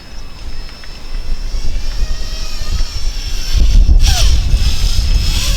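A JJRC JJPRO P175 FPV race drone runs at full throttle, its loud, close high-pitched motor whine screaming continuously and swelling louder near the end.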